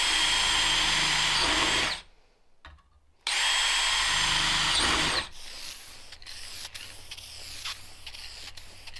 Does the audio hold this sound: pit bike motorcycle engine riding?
no